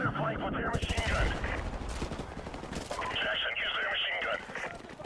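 Machine gun fire in the video game Call of Duty 4 Remastered, rapid bursts of automatic shots, fairly faint and distant, mixed with radio-like voices and battlefield chatter throughout.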